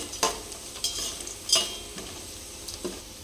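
Whole spices such as star anise, nutmeg, mace, cardamom, bay leaves and cinnamon frying in a pan for bagara rice, with a soft sizzle under sharp metallic scrapes as a spoon stirs them.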